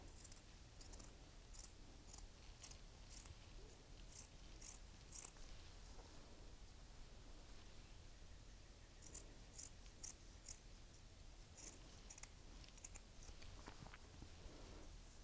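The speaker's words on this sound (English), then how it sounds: "So we're basically trimming this layer into thirds" Scissors trimming a fabric shirt yoke layer, with crisp, faint snips in quick clustered runs separated by pauses, close and quiet against a low hum.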